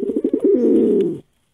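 A pet parrot gives a short run of low, cooing fussing calls, pulsing at first and then holding into one steady, fairly close call that cuts off abruptly.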